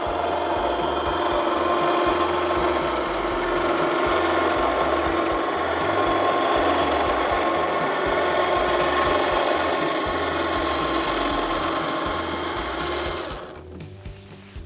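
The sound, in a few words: 12 volt winch motor lowering camper canopy roof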